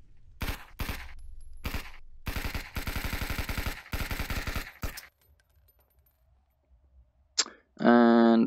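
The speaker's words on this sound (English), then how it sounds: "And the rifles, I never liked these because you gotta like manually pull back every time" Rifle fire in a video game: loud bursts of rapid shots in several groups, then silence, a brief sharp click and a final clattering mechanical sound, close with no talking.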